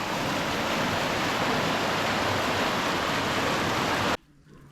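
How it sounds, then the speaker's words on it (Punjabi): Loud, steady rush of floodwater flowing under a small village bridge, broad and continuous, filling the scene before cutting off abruptly near the end. "ਦੇਖੋ ਪਾਣੀ ਕਿੰਨਾ ਹੈਗਾ ਜੋ ਪੁਲੀ ਦੇ ਥੱਲੇ ਲੰਘ ਰਿਹਾ"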